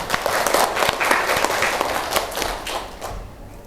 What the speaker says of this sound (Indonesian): tepuk tangan buat Raina